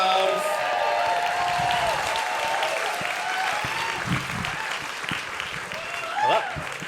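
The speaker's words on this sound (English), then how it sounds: "Huge round of applause for Jonah Adams." Audience applause breaks out for a storyteller at The Moth live storytelling event, a crowd clapping steadily and fairly loud for several seconds, tapering slightly toward the end.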